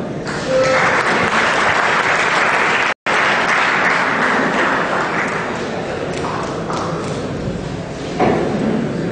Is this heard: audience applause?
yes